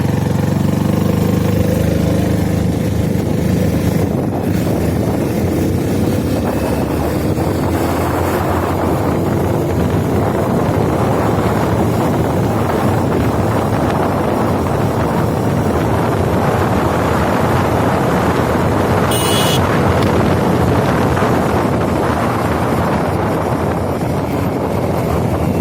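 A TVS XL 100 Heavy Duty BS6 2020 moped ridden at full throttle, its small engine droning continuously under heavy wind buffeting on the microphone for the whole ride, close and loud, with no talk.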